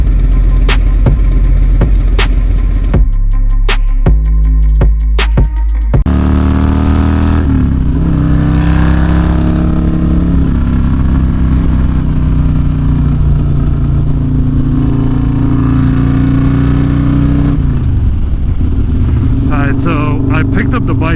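Harley-Davidson bagger motorcycle with a Stage II cam revs hard in sharp bursts early on, then settles into a loud, steady rumbling ride with talk over it.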